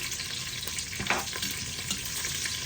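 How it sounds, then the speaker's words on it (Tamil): Dried red chillies and garlic frying in oil in a pan, a steady close hiss of sizzling that swells briefly with a stir, while tomato rice is being cooked. "செத்தல் மிளகாய் பூண்டு கொஞ்சம் போட்டுக்கொள்கிறேன்"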